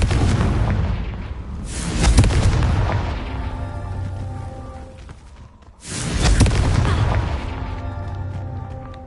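Two heavy booming blasts from the Confringo explosive spell in Hogwarts Legacy, each a loud burst with a long rumbling decay, under game music.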